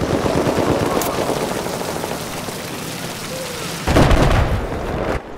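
Machine gun fire in a multiplayer shooter video game, a dense crackle of rapid bursts running throughout at moderate loudness, swelling louder near the end over steady game ambience.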